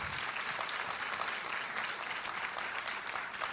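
A church congregation at a sermon by Pastor Marcelo Gomes applauds in a continuous, even wash of clapping, moderately distant, with no talking over it.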